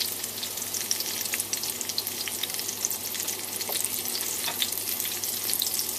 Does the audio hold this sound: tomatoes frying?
yes